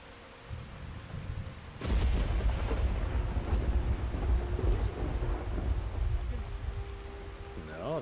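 Heavy rain and rolling thunder in a Skyrim storm, a steady downpour that swells into a loud, dense roar after the first two seconds and keeps pounding close by throughout.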